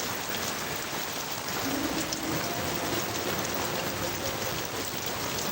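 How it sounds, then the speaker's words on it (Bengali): Heavy rain falls in Dhaka as a dense, constant wash of loud, close patter on hard surfaces, unbroken throughout and with no voices. "ঢাকাতে কিন্তু কঠিন বৃষ্টি হচ্ছে আজকে।"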